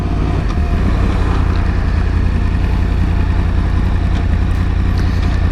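A Yamaha YZF R1 1000cc superbike engine roars steadily while riding, a loud continuous drone mixed with wind rush, with no talk over it.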